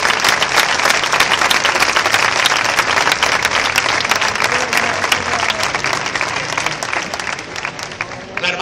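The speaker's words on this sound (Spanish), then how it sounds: "Agradecimiento y este aplauso para ti." An audience at an outdoor band concert in a town square applauds with steady, dense clapping that holds at a loud level throughout, with crowd voices mixed in.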